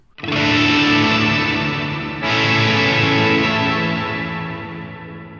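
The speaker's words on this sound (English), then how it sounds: "can hear our drive is kind of driving the reverb, drive into the reverb" Two heavy, distorted guitar chords from a Line 6 Helix ring out one after another, the drive pushing into reverb, each swelling into a long, washy reverb tail that slowly fades.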